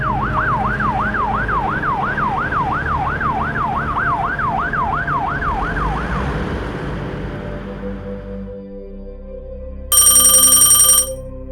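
A loud, wailing ambulance siren rises and falls rapidly in repeated cycles, then fades away, followed by a brief electronic tone burst near the end.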